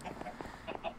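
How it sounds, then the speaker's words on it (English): Chickens cluck in the video game Minecraft, a few short, faint clucks in quick succession heard close by. "He's got chickens in the lighthouse."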